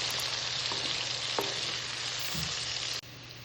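Onion masala fries steadily in a pan, a continuous loud sizzle with a low hum beneath and a few faint scraping touches, cutting off abruptly near the end.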